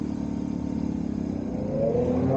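Air-cooled, oil-cooled BMW R1100S motorcycle engine droning steadily while riding a Welsh mountain road, the note rising slightly toward the end, loud and close with no voices.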